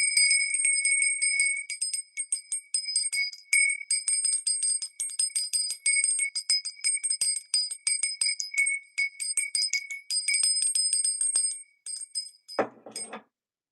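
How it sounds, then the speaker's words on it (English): A small handbell is rung rapidly and repeatedly during a spirit-conjuring session, bright metallic tinkling in steady bursts for about twelve seconds, close and clear, ending with a louder clatter and then silence. "I need to ring this bell a little bit more."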